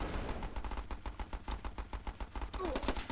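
Gun turret shots in the video game Battle Islands: Commanders, a dense, continuous rattle of rapid gunfire with rhythmic bursts throughout, loud and close.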